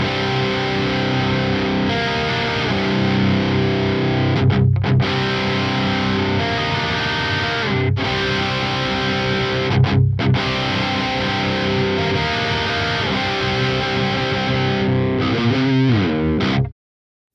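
Heavily distorted electric guitar through a Quad Cortex amp modeler chugs and rings out in a dense, saturated wall, with brief choked pauses, then stops abruptly.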